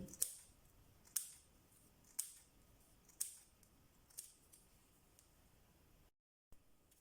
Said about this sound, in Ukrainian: Сюди ж нарізаємо невеличкими квадратиками білий папір.